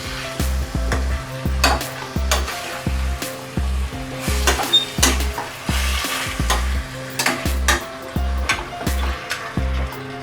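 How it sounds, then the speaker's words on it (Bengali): Goat head meat sizzles steadily in a hot wok while a utensil stirs and scrapes in a repeated rhythm, close and fairly loud, with no talking. "ভালো করে ভাজা ভাজা করে নিতে হবে।"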